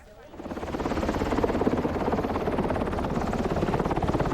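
Helicopter rotor noise, steady and loud with a fast chopping pulse, flying over a quake-damaged mountain zone in Pakistan after the 2005 earthquake; a voice speaks over the engine and blade thrum.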